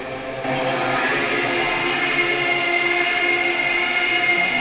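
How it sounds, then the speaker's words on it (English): A motor carriage engine in the video game Disco Elysium, a loud, steady droning rumble with a layered, rail-like whine that swells slightly after the first half second and holds without talk. "I didn't even recognize that as like a sound of a motor at first."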